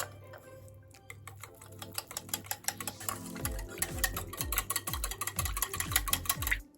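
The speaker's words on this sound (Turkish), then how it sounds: "İçine 2 kaşık nişasta ilave ediyorum. Ve iyice karıştırıyorum." An oil, water and starch mixture for leek börek is stirred vigorously in a bowl, with quick, regular scraping strokes that grow steadily louder and faster, close and alone.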